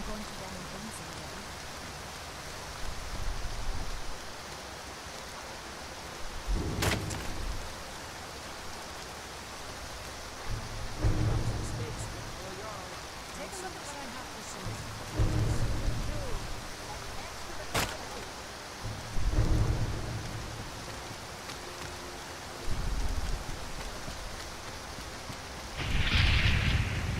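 Steady rain hiss from a Skyrim thunderstorm runs throughout, with several low thunder rumbles and a few sharp cracks at intervals, medium-loud and continuous under faint background sounds.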